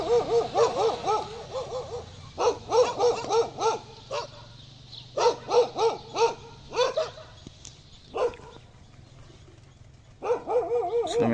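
Several dogs bark in repeated bursts of sharp, loud yaps and woofs with short pauses between volleys, close by during a cold winter hunting trip outdoors.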